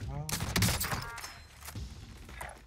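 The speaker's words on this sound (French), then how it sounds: "Oh, ça nous a tiré dessus." Gunfire in a video game: a quick burst of sharp, close shots at the start, then scattered fainter shots, with players talking over them.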